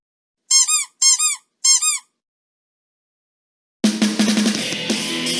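A teddy bear toy is squeezed three times in quick succession, giving short, loud, pitched squeaks with brief gaps, then silence, then a burst of louder, busy noise.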